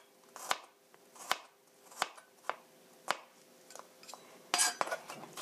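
A knife chops sliced garlic and green onion on a cutting board for a salad, with sharp, distinct strikes landing roughly every half to full second, close and fairly quiet, no speech.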